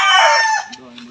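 A loud, close rooster crow with a strained, harmonic call that trails off, followed by fainter clucking, at Masasa Beach in the Philippines.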